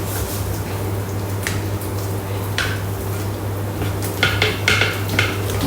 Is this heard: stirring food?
yes